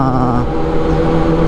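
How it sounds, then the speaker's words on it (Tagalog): A steady engine drone from an inline-four big bike motorcycle riding through a tunnel, loud and continuous with an even tone throughout and no talking. "Sarap talaga ng tunog ng big bike inline 4"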